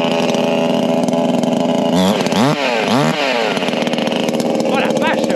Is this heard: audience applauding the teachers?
no